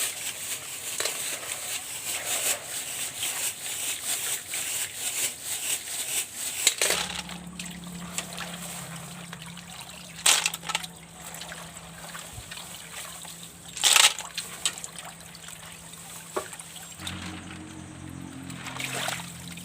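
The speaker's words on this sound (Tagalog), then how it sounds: "Kinalagyan na natin ng tubig at pakuluan natin." Water trickles and splashes into a pot being filled to boil kuhol snails, a steady liquid dribble with a few sharper clinks and splashes, close and moderately loud, with no talking.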